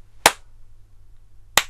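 Two crisp, isolated hand claps, well over a second apart, sound close and clear in a quiet room with a faint low hum, as part of a music rhythm lesson.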